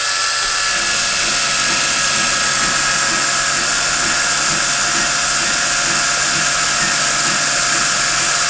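A power drill grinds steadily against an ordinary metal file, resurfacing it for turntable maintenance, a continuous loud high-pitched whine with a gritty texture running unbroken throughout, with no talking.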